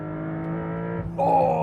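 A 2025 Porsche 911 Carrera S with a turbocharged flat-six pulls hard under full throttle, a steady loud engine drone rising in pitch. It ends with a sharp jump in tone as it keeps climbing, and no one talks over it.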